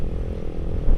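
A motorcycle fitted with a racing exhaust idles with a smooth, deep bass rumble, steady and close throughout with no talking.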